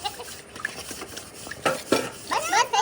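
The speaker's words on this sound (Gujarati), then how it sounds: "વાસણ ધોઈએ" Dishes, pots and pans being washed by hand, with scattered clinks and clatters of metal that grow louder and busier toward the end, close by and without speech.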